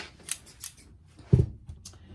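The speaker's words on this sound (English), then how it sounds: "And the scissors is not happy with all this." Scissors cut through thick blouse fabric up close, giving a few crisp snips and then a heavier chomping cut, with quiet handling between them.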